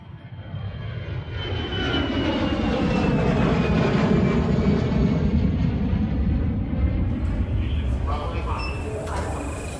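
A steady, loud roar of an airplane engine fills the recording, swelling and holding throughout with a faint higher whine layered on top.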